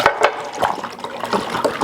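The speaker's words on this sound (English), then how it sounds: "how you're supposed to pour these nitro stouts" Nitro chocolate stout is poured vigorously into a glass, a close, gurgling, glugging pour in uneven bursts of liquid.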